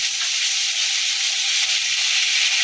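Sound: ginger and green chili paste sizzling in hot mustard oil

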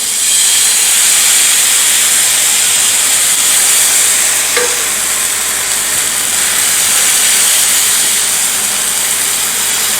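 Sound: dosa batter sizzling on hot griddle

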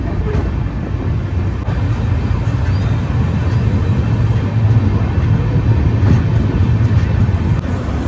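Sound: train entering Bhairabi station, Sairang–Kolkata Express

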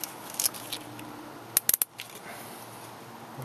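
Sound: clipping off little ends with cutters

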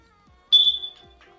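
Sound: smoke alarm chirping

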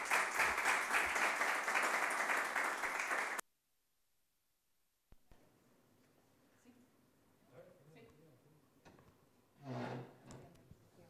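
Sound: audience applause for speaker

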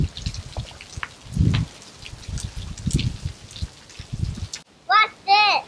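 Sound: rain falling while children play outside

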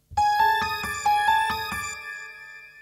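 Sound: bell ringtone played as a school break bell

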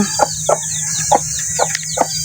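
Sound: newly hatched chicks and hens

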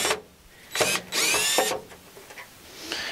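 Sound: power drill removing screws

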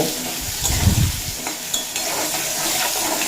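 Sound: bottle gourd (lau) frying in oil on high flame

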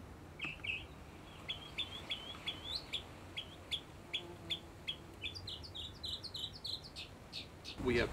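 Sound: migrating songbirds calling in treetops

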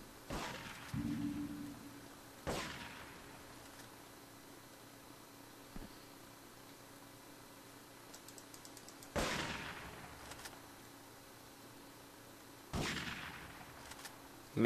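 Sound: shotgun gunfire in video game Grand Theft Auto 3

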